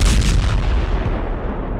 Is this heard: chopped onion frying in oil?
no